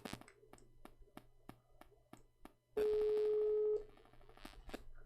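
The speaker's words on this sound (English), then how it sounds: "Let me call Amir." Dialing tones from a phone placing a call, a rapid series of short keypad beeps followed by a steady, louder tone lasting about a second, heard close up with light room noise.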